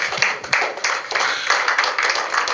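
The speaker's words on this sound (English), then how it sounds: "the three chairmen deserve a round of applause" Applause for the three chairmen at an opposition parties' press briefing, a room of people clapping steadily and fairly loudly in a dense, continuous patter.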